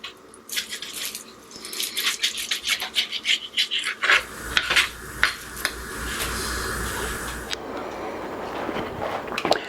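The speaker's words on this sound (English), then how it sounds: "I'm going to get this bacon cut up, just in chunks" A knife slices bacon into chunks on a board, giving a steady run of close, raspy cutting strokes that grow heavier and louder partway through, with no talk.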